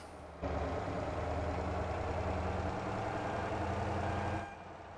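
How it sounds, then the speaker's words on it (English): Truck engine in the Motor Town driving game, a loud steady low rumble that starts abruptly, holds evenly for about four seconds with a slight shift midway, then cuts off. "Yeah, this one is pretty loud on the engine."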